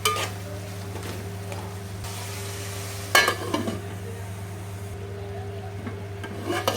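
Chicken fry dusted with chili powder is stirred in a hot pan, a low steady sizzle with scraping and rubbing strokes of a spoon against the pan, plus a sharper clatter partway through.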